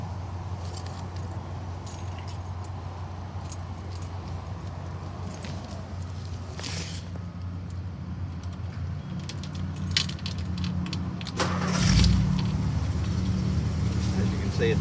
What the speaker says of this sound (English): Let me reach in here and start the car for you.